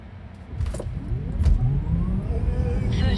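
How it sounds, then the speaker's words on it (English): A 2026 Tesla Model 3 Performance accelerates hard, heard from inside as a rising electric whine over swelling road and tyre rumble, building steadily louder across a few seconds. "You basically just point and go, and it goes fast."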